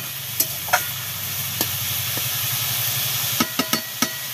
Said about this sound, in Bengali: এবার দেখো আমাদের রেসিপিটা কীভাবে রান্না হয়, মানে আমাদের বাঁধাকপিটা কীভাবে রান্না হয়